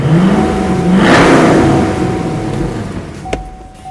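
A 2010 Chevy Camaro with a Corsa performance exhaust revs up, the engine note rising and swelling to a loud peak, then settling back to a rumbling idle, followed by a short knock.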